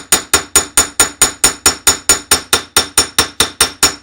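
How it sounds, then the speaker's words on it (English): Hammer striking metal inlay pieces into drilled holes, about sixteen sharp ringing blows in a fast, even rhythm, each with a bright metallic ping and short decay, close and loud with no talking. "And now I'm really going to hammer these pieces in there."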